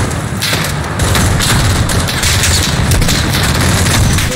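A loud, sustained explosion roars continuously in the Modern Warfare 2019 campaign at a gas factory, dense rumbling booms and crackling blasts filling the whole stretch without pause.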